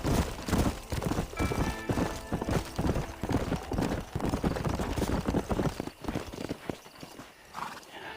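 A horse gallops in Red Dead Redemption 2, rapid clip-clop hoofbeats pounding steadily and loudly up close, with brief whinny-like tones early on and no talking.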